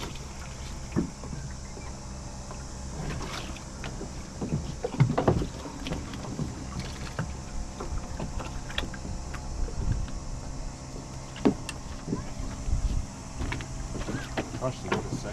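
Oars splash and knock intermittently as a small boat is rowed in a deep cove in the Bay of Islands, New Zealand, with light wind noise and occasional voices nearby.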